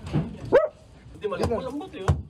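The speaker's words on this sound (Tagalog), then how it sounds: "maririnig ang tahol ng isang aso" A dog barks several times, its sharp yelps echoing between narrow, tight concrete walls in Dasmariñas, Cavite, sounding moderately close, with voices talking over parts of it.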